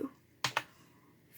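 Two quick keystrokes on a computer keyboard while entering a password hash in Linux, crisp close clicks a split second apart in an otherwise quiet room.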